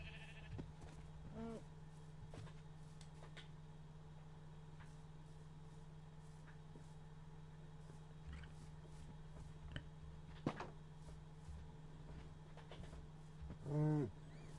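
Sheep bleating in the Minecraft video game, with a couple of short harmonic bleats near the start and a louder one near the end over a steady low in-game hum; no talking.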